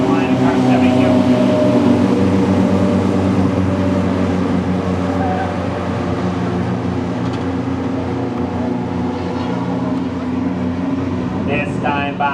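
Race cars roar around the Star Speedway oval in a late-race battle for the lead, a loud, steady engine drone that holds throughout under an announcer's commentary.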